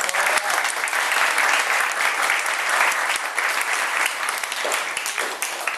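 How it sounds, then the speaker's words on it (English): A school audience at St. Mark's claps for the children who read poems, a dense, steady round of applause that holds at an even level for several seconds. "I think we can give everybody that did a poem today another big clap."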